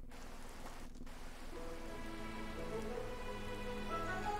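Rain falling in the video game A Hat in Time, a soft steady patter that swells slightly while calm melodic music with sustained tones rises beneath it.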